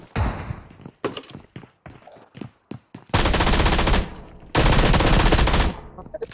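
Rapid automatic gunfire in a mobile squad shooter game played on an iPhone 11, starting as scattered single shots and short bursts, then two long sustained loud volleys.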